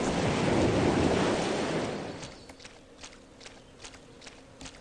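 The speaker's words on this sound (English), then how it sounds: "you know what would be much faster? Water walk." Water Walk spell in the fantasy RPG Might and Magic VI: a loud rushing, surf-like wash for about two seconds that fades into a steady, regular patter of watery footsteps splashing across the surface.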